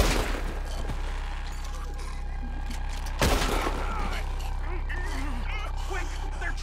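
Gunfire in Red Dead Redemption 2 during a shootout, with a couple of sharp loud cracks standing out over a steady rumbling game backdrop and scattered shouted voices.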